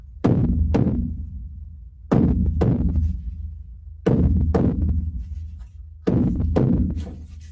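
A hand drum is struck in a heartbeat rhythm, with loud paired double beats repeating about every two seconds, four pairs in all, each ringing out before the next, with no talk.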